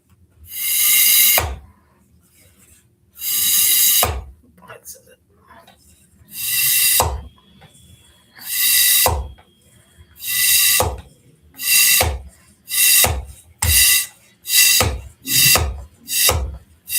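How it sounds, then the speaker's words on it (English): A hand pump pushes air in repeated rasping strokes, about a dozen hissing pulses separated by short pauses, speeding up toward the end. "So I'm going to pump the air in."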